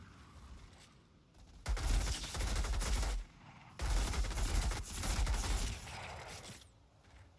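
Rapid automatic gunfire from the video game Outriders, fired in two long sustained bursts that empty a magazine, loud and close, with brief quieter gaps between them.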